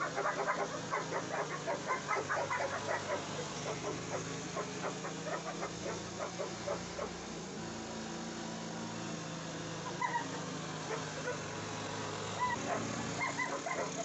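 Several dogs at a home keep up a rapid, repeated barking and yipping throughout, moderately distant and steady, with no talking over it.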